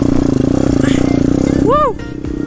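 A pit bike engine revs hard in second gear with a steady, buzzing putter close by, its pitch swooping up and down before settling; a voice calls out over it.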